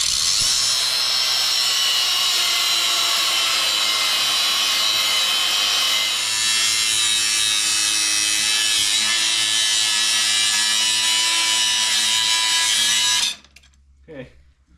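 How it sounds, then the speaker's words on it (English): A grinder with its disc spinning runs loud and steady at close range for about thirteen seconds, then cuts off abruptly, leaving near silence. "What if that grinder disc ever like exploded?"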